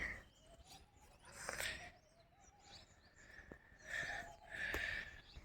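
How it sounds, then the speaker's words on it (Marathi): Faint morning birdsong, likely parrots, drifts in from outside a house window: a few scattered high chirps and calls over quiet room tone, with no talking. "बाहेर पक्ष्यांची किलकिल आवाज ऐकायला येतो ना"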